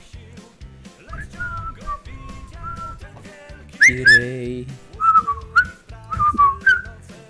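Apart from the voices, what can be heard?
person whistling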